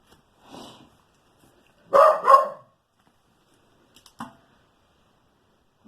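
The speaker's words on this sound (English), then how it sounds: "In the video, you probably could hear my dog barking." A dog barks a few times in short bursts around an alleyway home, moderately close and otherwise alone, with quiet gaps between the yaps.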